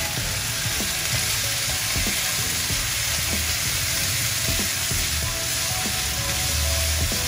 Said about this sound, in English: Now we are putting some peas. So now stir it a bit.